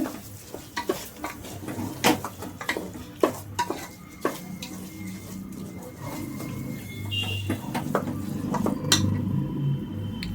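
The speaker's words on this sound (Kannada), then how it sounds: "ಚೆನ್ನಾಗಿ ಮಿಕ್ಸ್ ಮಾಡ್ಕೊಳ್ಳೋಣ" A utensil stirs food in a pot during home cooking for Ugadi, making quiet, irregular scrapes and sharp clinks against the metal over a low background sizzle. No one speaks.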